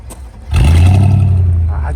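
An Audi car engine at a Bishkek used-car market catches and revs up, a low rumbling roar swelling suddenly after a quiet start and holding loud and close.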